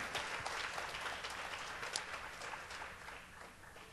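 Congregation clapping together inside a church at a Wednesday service, a steady, dense wash of applause that holds evenly throughout and tapers slightly near the end.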